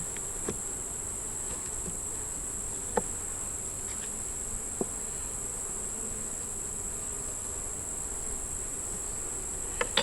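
Honey bees buzzing on an open hive frame during an inspection, a faint continuous hum with a few soft clicks and knocks, no voices.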